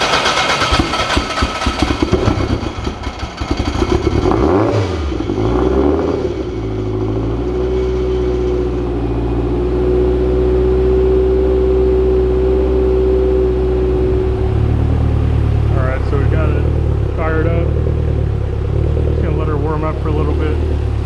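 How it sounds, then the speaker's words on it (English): A SW20 Toyota MR2 engine cranks, catches and settles into a steady idle, loud and close, with a constant drone and faint voices talking over the running engine near the end. "Let's go ahead and fire it up, see if we have any leaks."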